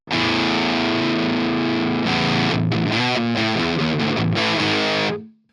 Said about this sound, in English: The distortion gets a little more grindy.